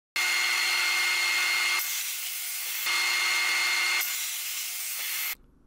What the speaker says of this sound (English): I cut 2 pieces from the sheet, 32 inches by 18 inches for my side panels.